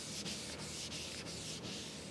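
Close hand sanding on a wood board with sandpaper: rhythmic, raspy strokes repeat about every third of a second, soft but steady, with nothing else heard.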